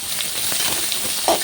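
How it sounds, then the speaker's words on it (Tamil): Onion added to hot mustard seeds in a pan, a close, fairly loud sizzle with a few small pops and a brief louder crackle near the end, no voices. "இந்த டைமில் நான் வெங்காயம் ஆட் பண்ணிக்கிறேன்"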